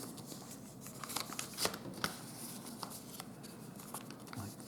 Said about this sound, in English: You fold the corners into the middle.